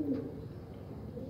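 A pigeon gives a short, soft, low coo close by at the start, followed by quiet background hum.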